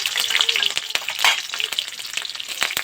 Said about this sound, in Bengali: ফোড়ন আর কাঁচা লঙ্কাটা একটু ভেজে নেব।